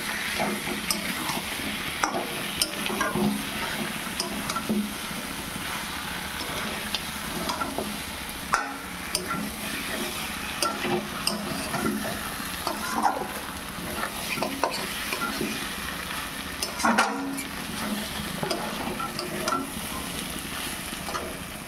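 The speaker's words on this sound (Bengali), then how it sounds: "আলুগুলো এখন এর মধ্যে দিয়ে দিলাম, আর দিয়ে দিলাম গোটা পেঁয়াজ।" Potatoes and whole onions frying in a pot, a continuous crackling sizzle with scraping stirring strokes throughout, close and steady for over twenty seconds.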